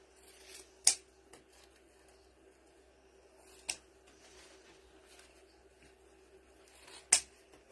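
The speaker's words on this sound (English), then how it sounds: "let me cut the top" Scissors snip fabric while a butterfly swag is being made: three sharp, quiet cuts spaced a few seconds apart, with faint rustling between them.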